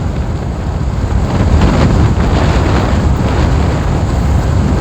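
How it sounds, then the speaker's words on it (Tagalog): Strong wind buffeting a microphone outdoors in a coastal village in Masbate during stormy low-pressure weather, a loud, continuous roaring rumble with no letup. "Malakas talaga ang hangin ngayon mga amigo."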